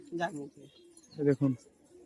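Giribaz pigeons in a loft coo in two bursts, a low throaty call followed by a quick double coo, close and clear in a quiet room.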